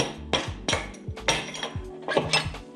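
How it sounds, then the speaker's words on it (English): A mallet drives a punch tool against a Super Chief Limited motorcycle wheel, giving a run of sharp metallic taps at an uneven pace, close and loud with ringing clinks. "I like to use a mallet and a punch tool"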